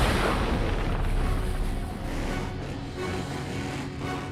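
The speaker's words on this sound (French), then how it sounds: "Cette explosion, c'est toi?" A cartoon explosion from Hot Wheels Monster Trucks comes as a dense, continuous roar of rumbling blast noise, loud and sustained, with no voices.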